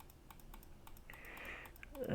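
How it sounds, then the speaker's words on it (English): Rapid, light mouse clicks tap out in quick bursts during a digital card game, faint and close, with a brief hiss of background noise near the end. "Apologies for the excessive clicking."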